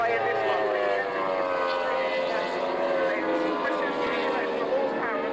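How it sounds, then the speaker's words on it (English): A Formula 2 racing powerboat at a 1994 race in Fairford roars past with a loud, sustained, high-revving engine drone as a race commentator talks over it. "Boat number 9 goes past us"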